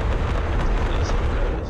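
A bomber strike in the war game Broken Arrow erupts as a loud, dense explosion, a continuous deep roaring rumble that fills the whole moment with no break.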